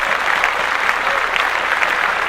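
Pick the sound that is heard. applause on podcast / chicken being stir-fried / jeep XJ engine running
applause on podcast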